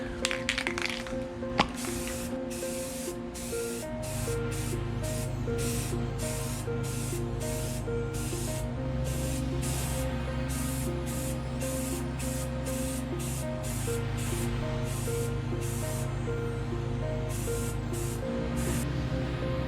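Rust-Oleum gloss black spray paint hisses steadily from an aerosol can onto a Dana 41 rear axle, long continuous bursts broken by brief pauses, close and loud with a faint tonal hum underneath.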